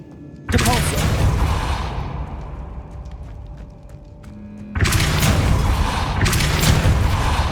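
A Depulso force spell is cast in Hogwarts Legacy, loud booming blasts with whooshing rushes, one burst at the start that decays and a second heavy burst later, set over a game ambience.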